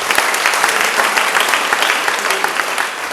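A church congregation claps steadily for God, a dense, continuous burst of applause with many overlapping hand claps at close range for about three seconds.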